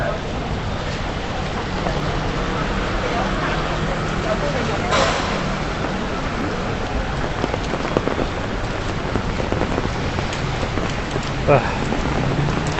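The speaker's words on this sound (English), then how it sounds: "Rain, rain, rain." Steady broadband rain hiss fills the whole stretch, a constant wash of falling rain with occasional brief louder spatters.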